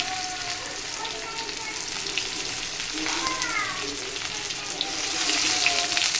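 Green chili paste sizzling as it fries with already fried potatoes in a pan, a steady close crackle throughout that swells a little louder near the end, with faint background sounds.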